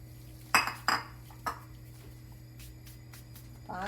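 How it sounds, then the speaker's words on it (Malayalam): Dry pasta goes into a pot of boiling milk with a few sharp metallic clinks of a utensil against the pot, spaced apart over a soft steady background hum. "പാല് ഇതുപോലെ തിളച്ച് വരുമ്പോൾ നമുക്കതിലേക്ക് പാസ്ത ഇടാം."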